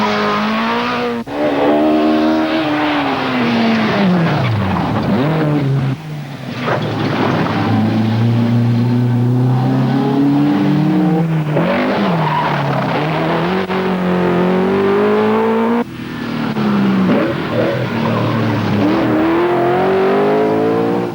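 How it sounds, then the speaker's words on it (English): Rally cars race at the 1983 Donegal International rally, a Ford Escort among them, with loud, close engines revving hard through gear changes and passing by for a sustained stretch. "Vincent Bonner from the Sweet Dunlow is chasing him hard in the Ford Escort."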